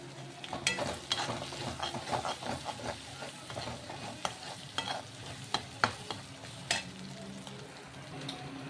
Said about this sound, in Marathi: बरोबर मिक्स करून घेऊ.